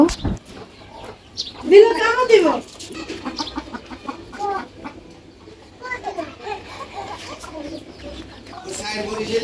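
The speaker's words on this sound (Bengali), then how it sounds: "একসাথে মুরগিতে খাবার দিতেছ" Chickens cluck and squawk while being fed, loud and close, with children's voices and other talk mixed in at intervals around the birds.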